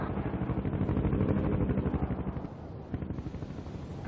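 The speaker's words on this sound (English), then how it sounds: "I have incoming mortars!" Incoming mortar fire in the World in Conflict video game: a rapid, rattling run of close impacts and gunfire-like bursts that thins toward the end, with a brief thump near the three-second mark, and no talking.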